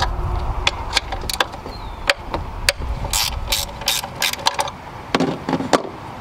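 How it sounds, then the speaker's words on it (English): A 10 mm wrench ratchets a nut off on a Lexus valve cover, giving a series of sharp, close clicking bursts at uneven intervals, loud and alone. "grab a 10 millimeter wrench to take the other nut off."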